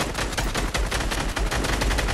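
Steady spraying video game gunfire hammers out in a fast, unbroken rhythm of repeated shots, loud and close, with no talking.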